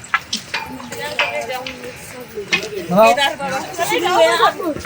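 Horses and mules plod along the Kedarnath trek path, their hoof clops faint and scattered beneath steady crowd chatter and close talking.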